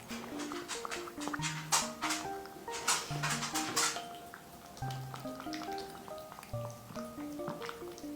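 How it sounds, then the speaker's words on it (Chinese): Several cats lick a plate clean during feeding of eight cats, giving faint, repeated wet licking and lapping sounds in an irregular rhythm, close up and quiet, with no talking. "哇，这个底子也要舔干净，真是个会过日子的小猫咪呀！"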